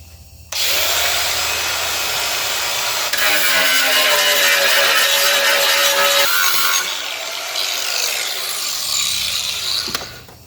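A cordless power tool grinds and smooths metal on a 1974 Charger cowl under repair, a loud sustained whir in bursts with a brief pause, close up and with no speech.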